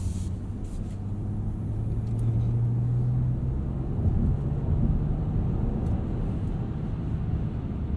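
Steady low engine and road rumble from a 2021 Ford F-150 XLT 4x4 SuperCrew with the 2.7 EcoBoost cruising on back roads, heard from inside the cab as a constant drone with no talk.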